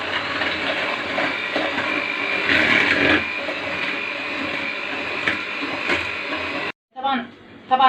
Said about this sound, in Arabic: احنا هنضرب ده بقى مع بعض كده